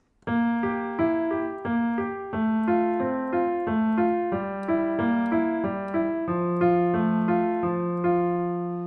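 A piano plays a steady flowing Alberti bass pattern of broken chords, low-high-middle-high notes repeating evenly while the harmony shifts underneath, no voices.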